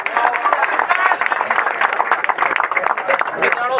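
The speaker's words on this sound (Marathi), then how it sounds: "त्यांच्यासाठी जोरदार टाळ्या वाजवा" Dense, loud applause from an audience at the prize ceremony of a tennis-ball cricket tournament, sustained steady clapping throughout, close and continuous.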